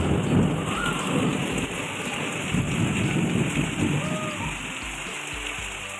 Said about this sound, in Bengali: ছেলে আর মা বেরিয়ে যাওয়ার পরেই দেখলাম মুষলধারে বৃষ্টি নেমে গেছে